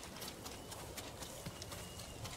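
Horse hooves clip-clop at a steady trot in Ghost of Tsushima, a soft, even patter under a constant wash of ambient game noise.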